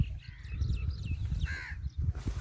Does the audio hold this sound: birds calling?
yes